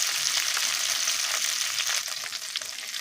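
Ginger, garlic, cashews, coconut pieces and onions fry loudly in hot oil, a dense crackling sizzle that holds steady and eases slightly toward the end, with no voices.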